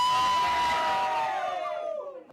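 A crowd celebrates after India's top court overturns the ban on gay sex, with loud cheering and whoops that hold steady and then fade toward the end, voices shouting over one another.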